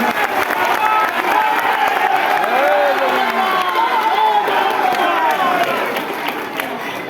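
A large festival crowd at Odisha Utsav 2026 in Kolkata claps and cheers in welcome, a dense, loud, sustained roar of applause mixed with shouting voices that eases slightly near the end.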